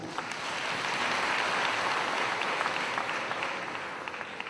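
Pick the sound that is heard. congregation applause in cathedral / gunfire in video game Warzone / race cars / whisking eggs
congregation applause in cathedral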